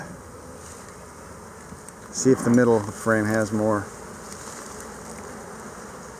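Honeybees hum steadily around an opened hive while a person speaks close by in a few short phrases over the buzzing.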